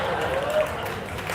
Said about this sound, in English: Let's get for them a round of applause for brother and sister.